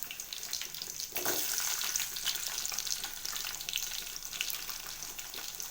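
Garlic, onion and mustard seeds fry in a pan with a steady, close sizzle, swelling sharply just after the first second, then crackling on evenly throughout with no voices.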